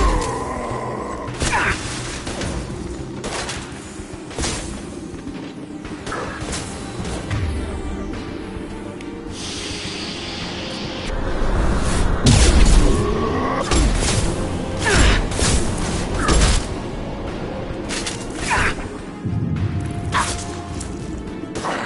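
A grenade detonates in the Mass Effect 2 sci-fi shooter, a loud booming blast and crashing debris amid constant gunfire and combat clatter, with a swelling roar around the middle and sharp impacts afterward.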